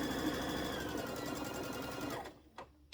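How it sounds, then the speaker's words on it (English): A sewing machine runs steadily, stitching a quarter-inch seam off the edge of a quilt block, its loud continuous whir lasting about two seconds before stopping, followed by a few faint clicks. "Stitch off the edge of the block."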